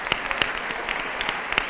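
An audience at a political liberty gathering gives a short burst of applause, a moderate, even patter of many hands with a few crisp claps poking through.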